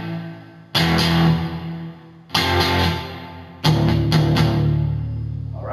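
Distorted electric guitar chugs a riff on the bottom three strings from a song, three loud bursts of chords cut apart by short silences, close and without talk.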